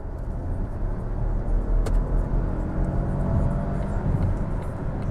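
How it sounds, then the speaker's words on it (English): A Volvo XC40 T5 Recharge plug-in hybrid SUV drives in sport mode, giving a steady, full road-and-engine rumble that swells slightly with the throttle and carries throughout without talk. "So I just put the car again in the sportive mode, so power"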